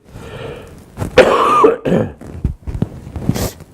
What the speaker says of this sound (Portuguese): a minha ligeira tosse nesta manhã